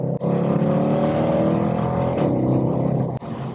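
A W204 Mercedes C63 AMG coupe's 6.2 V8, fitted with Milltek secondary decats, revs hard in a loud, raspy, harmonic-rich roar. It holds strong across the whole stretch, with two quick dips at the shifts, and no voices are heard.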